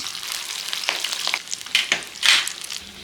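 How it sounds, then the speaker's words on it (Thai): Spiced ground beef patties frying in a pan over medium-low heat crackle and sizzle up close, with irregular spitting bursts swelling and fading and nobody talking. "ทอดมาประมาณ 7 นาทีนะครับ"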